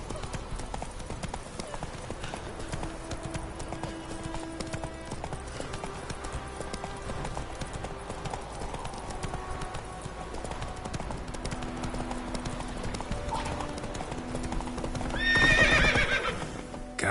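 Roach, a horse in The Witcher 3, gallops with a continuous rhythmic clatter of hooves, close and steady, building to a loud whinny near the end.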